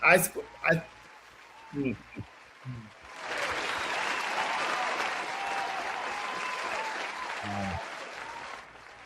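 Applause from a small studio audience on a morning breakfast talk show, starting after a few short spoken words and holding steady for about five seconds before fading, with a brief voice near the end.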